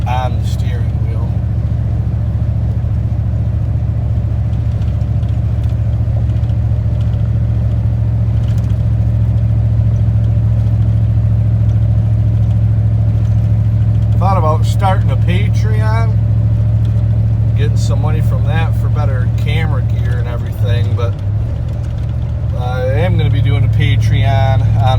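A 1995 Dodge Ram V8 with a Thrush welded exhaust cruises on the highway, a loud steady low drone filling the cabin throughout, with someone talking over it in the second half.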